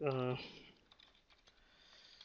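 Soft clicks of a computer keyboard as code is typed, faint and scattered after a brief voice at the start, in a quiet room.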